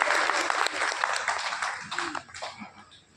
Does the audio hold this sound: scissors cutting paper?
no